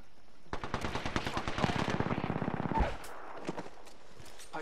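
Automatic weapon fire in the battle royale game Apex Legends: a sustained rapid burst of shots for about two seconds, followed by a few scattered single pops, moderately loud and unaccompanied by voices.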